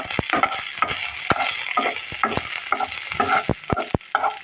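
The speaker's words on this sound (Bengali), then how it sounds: "সামান্য সরিষার তেল দিয়েছি এখন আমি রসুনটা একটু ভেজে নেব সাথে শুকনো মরিচ দেবো" Garlic and dried chili fry in mustard oil, sizzling steadily while a utensil scrapes and knocks against the pan in repeated sharp strokes, close and fairly loud, with no talking.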